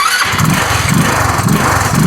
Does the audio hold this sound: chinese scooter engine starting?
yes